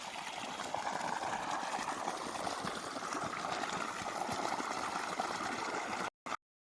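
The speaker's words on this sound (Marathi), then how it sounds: "आणि हे बघा इकडनं जातं शेतात पाणी" Water runs along a channel into a farm field in a village, a steady rushing flow heard close and continuous, cut off abruptly near the end.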